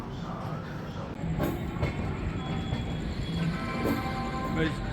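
The 12302 Howrah Rajdhani Express pulls out of Kanpur Central, heard from on board as a steady rumble of rolling coaches with wheel clatter, a few sharp knocks and faint tonal squeals, with a voice talking at times.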